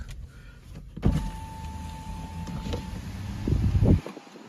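Car power windows running, a steady electric motor whine for about three seconds that ends with a thump as the glass seats, heard close up inside the vehicle.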